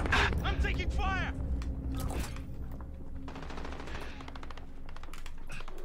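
Rapid gunfire from the video game Call of Duty Modern Warfare, including an MK2 carbine, crackles in quick bursts with mechanical clatter, loud at first then sustained at a lower level beneath a speaking voice.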